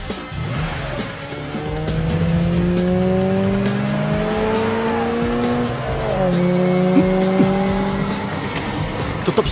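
Race car engines rev and whine with rising and falling pitch during a car racing game, with brief tire squeals cutting in; the sound is loud and continuous, with no talk.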